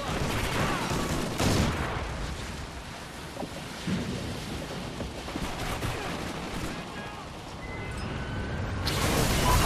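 Gunfire fills a Call of Duty Ghosts multiplayer match, including Bulldog shotgun blasts, as dense rattling shots and booms that run continuously and swell louder toward the end.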